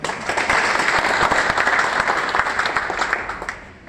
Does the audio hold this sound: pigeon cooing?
no